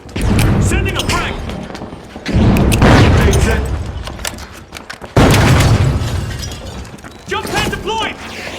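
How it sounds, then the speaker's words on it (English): Frag grenade blasts in the video game The Finals: two loud, shattering booms roughly three seconds apart, each followed by a crackling, debris-filled tail over busy in-game noise. "Sending a frag!"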